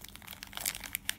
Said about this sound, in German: In dieser Verpackung haben wir nichts mehr Großes, außer eine kleine schwarze Tüte.